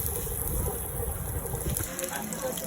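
Pumpkin flower fritters coated in batter sizzling in hot oil, a loud continuous hiss and crackle close up across the short stretch.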